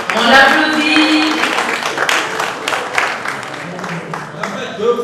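An audience applauds the winner of a spelling contest, with dense clapping that starts loud and gradually thins, mixed with voices and brief calls from the crowd.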